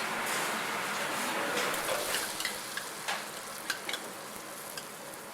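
Red curry paste sizzles in a pan with garlic over low to moderate heat, a steady hiss broken by a few light stirring clicks and scrapes near the end; no voices.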